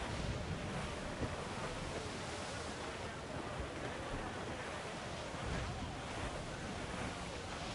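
Stormy open sea and gale-force wind in Assassin's Creed IV: Black Flag, a dense, steady roar of surf and rushing wind buffeting a sailing ship, loud and unbroken throughout with no clear speech.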